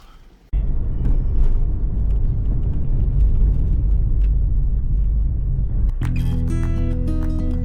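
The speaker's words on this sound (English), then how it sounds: "our car starts racing towards the Johor Bahru immigration checkpoint" A Grab ride car drives along a road toward the Johor Bahru immigration checkpoint, its steady close road rumble and engine hum broadly continuous, ending in a brighter tonal burst of other noise near the end.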